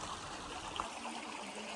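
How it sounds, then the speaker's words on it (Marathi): Water from a spring feeding Lonar lake trickles continuously, a soft steady close flow with faint gurgling and no talk. "जिथून कंटिन्युअसली पाणी येत राहतं."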